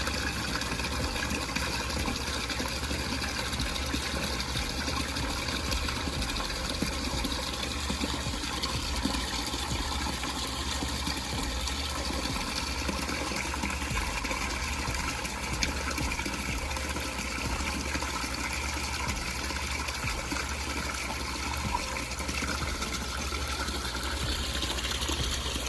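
An aquaponics water pump runs in an aquarium setup, filling buckets with a steady, continuous gush of water over a low mechanical hum, unbroken for the whole stretch, fairly quiet and with no voices.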